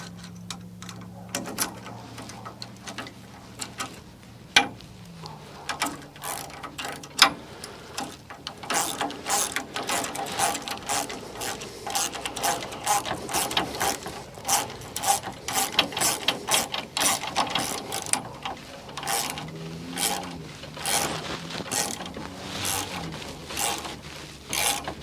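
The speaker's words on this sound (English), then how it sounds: "Do I have the right size wrench?" A ratcheting wrench tightens bolts on a homemade cargo trailer rack, giving close, crisp rapid clicking in repeated bursts with brief pauses between strokes.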